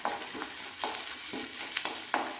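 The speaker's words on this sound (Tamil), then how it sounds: "நல்லா வதக்கிக்கோங்க." Small onions sautéing in a pan, a close, steady sizzle with repeated soft scraping strokes from stirring at an uneven rhythm, fairly quiet and without voices.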